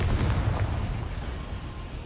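A Confringo blasting spell bursts in Hogwarts Legacy, a deep rumbling explosion that fills the clip, loud and boomy at the start and slowly trailing off without any talk.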